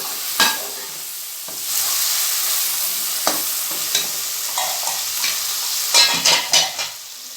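Tomatoes frying down in a pan with their juices cooking off, giving a steady sizzle broken by repeated stirring scrapes and clinks, louder toward the end.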